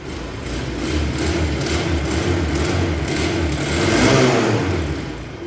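A Daelim Daystar 125 motorcycle engine runs close by, idling with a steady throb and then revving up and easing back, loud and unbroken, with no voices.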